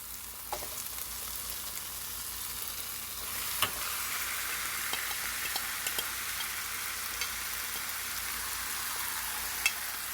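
Marinated chicken hits sautéed onion and tomato in a pan for pepper chicken, a steady frying hiss that grows a little louder, with sparse stirring clicks and scrapes and no speech.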